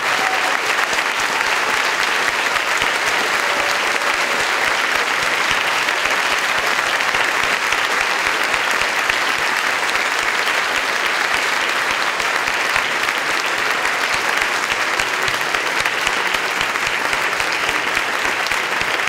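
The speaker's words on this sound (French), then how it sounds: "Et on applaudit nos femmes de choc et nos intervenants." A large audience applauds steadily and loudly at a public event on fighting tax havens and separating banks, a dense, continuous wash of clapping that holds evenly for about nineteen seconds with no voices over it.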